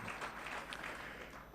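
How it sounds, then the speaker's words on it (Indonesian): Congregation clapping during a Sunday church service, a short burst of steady, moderately loud applause with a low hum underneath and no talking. "mari berikan tepuk tangan bagi Tuhan Yesus"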